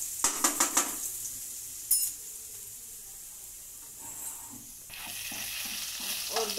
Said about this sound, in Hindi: 1 टेबलस्पून इसमें मैं लहसुन डाल दूंगी और इसे सोते होने देंगे